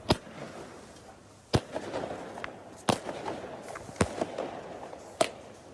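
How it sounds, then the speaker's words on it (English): Fireworks set off outside a team hotel in the morning before a rugby league final, five sharp cracking bangs spaced about a second apart over a low rumble of crackle, moderately distant and without talk. "setting off fireworks outside the Penrith Team Hotel ahead of their World Club Challenge final with Wigan"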